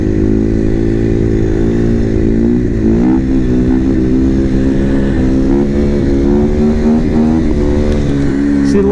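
A supermoto motorcycle engine revs steadily and close by, with its pitch climbing and dipping slightly as the rider works the throttle for a wheelie.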